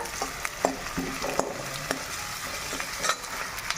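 Onions frying in a pan during home cooking sizzle in a low steady hiss, broken by soft scrapes and taps of a stirring spoon, close up and with no voices.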